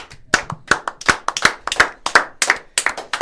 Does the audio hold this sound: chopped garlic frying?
no